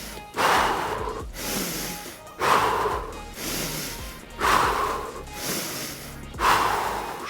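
Quick, powerful breaths during a morning yoga warm-up come as four forceful exhalations about two seconds apart, each a sharp loud rush of air fading away, close and clear.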